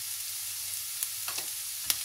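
Spices and chicken frying in a pan for chicken paratha rolls, a constant bright sizzle with a few stirring scrapes and clicks, close and steady.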